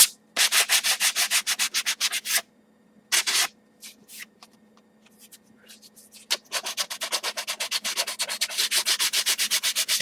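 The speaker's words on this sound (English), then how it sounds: "We're just going to sand them" Pieces of PVC foamboard (Sintra) armor are sanded to round their edges, giving close, loud, rapid rhythmic scrubbing strokes in bursts with a couple of short pauses in between.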